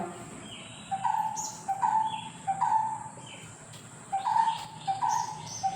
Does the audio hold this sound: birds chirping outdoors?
yes